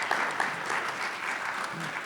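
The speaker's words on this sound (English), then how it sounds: "I think we'll give the home team a round of applause, guys" Steady audience applause from a crowd of students at a STEM event, a continuous dense patter of many hands clapping throughout.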